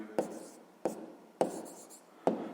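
Pen writing numbers on paper during a sixth-grade maths exercise, four short scratchy strokes spaced about half a second apart, close and fairly quiet.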